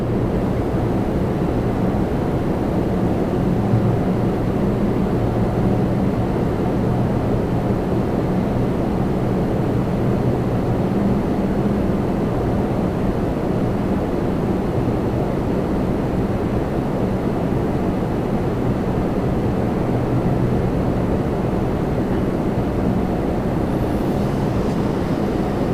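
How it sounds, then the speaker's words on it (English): Boeing 787 Dreamliner on approach at Toronto Pearson, a loud steady jet engine roar that holds continuously throughout with no talk over it. "Alright, incoming Dreamliner"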